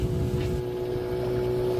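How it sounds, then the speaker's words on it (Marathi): A ferry arriving from Elephanta in Mumbai harbour drones with a steady low engine hum and a sustained tonal whine, loud and close, with wind noise and no talk. "ही एलिफंटावरून फेरी आली आहे"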